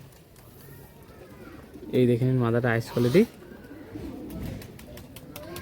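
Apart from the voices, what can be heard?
Madrasi pigeons cooing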